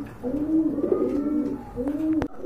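A pair of pigeons offered for sale coo close by in soft, rolling low calls that repeat in two long phrases, with a sharp tap near the end.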